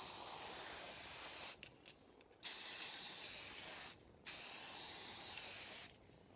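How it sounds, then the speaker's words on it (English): Aerosol spray paint hisses onto bass drum pedals in three long steady bursts separated by short pauses, close and loud, with no talking. "I'm actually going to spray paint the pedals"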